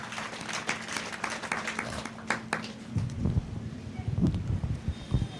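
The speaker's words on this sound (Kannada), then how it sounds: "ಚಪ್ಪಾಳೆ ಮೂಲಕ ಅನುಮೋದಿಸಬೇಕೆಂದು ಕೇಳ್ಕೊಳ್ತೇನೆ" Applause from an audience at a community association's annual meeting, a few seconds of scattered hand claps fading in and out under a murmur of voices.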